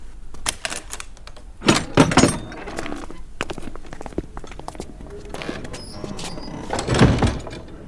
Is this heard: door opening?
yes